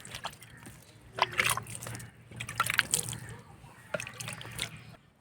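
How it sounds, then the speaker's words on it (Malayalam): Water sprinkled by hand onto soil in a grow bag in a home kitchen garden, heard as soft irregular drips and light splashes over a few seconds, fairly close, with a faint low hum underneath. "ഈ ഒരു ഗ്രോ ബാഗിൽ ഞാൻ കുറച്ച് നന്നായിട്ട് വെള്ളം കുടഞ്ഞു കൊടുക്കുന്നുണ്ട്"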